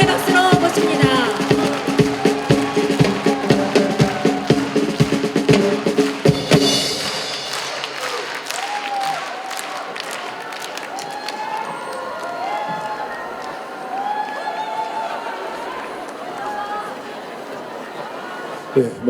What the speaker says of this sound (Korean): 뜨거운 감사와 환영의 박수로 모십니다